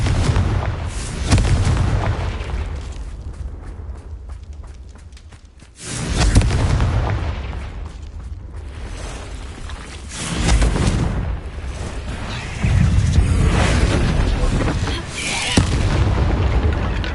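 Repeated Confringo spell explosions in Hogwarts Legacy boom loudly and close, several heavy blasts with rumbling debris and crackle rolling one into another without pause.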